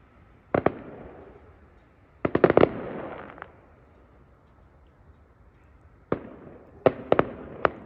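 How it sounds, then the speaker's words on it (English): A fireworks display goes off in the distance over London, with sharp cracks and pops arriving in small clusters, each followed by a rumbling echo that fades between the bursts. "There's some kind of firework display going on back there."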